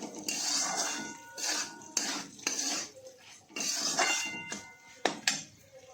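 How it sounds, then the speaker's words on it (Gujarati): Sabudana khichdi ingredients are stirred in a pan after salt is added, making irregular metallic clinks and scrapes of a spoon against the pan in short bursts, close by and without talk. "હવે બધાને મિક્સ કરી લેવાનું।"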